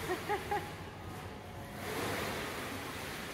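Stormy sea surf heard from aboard a ferry crossing in rough weather, a steady broadband wash of waves and wind with a swelling rush toward the end, no talk over it.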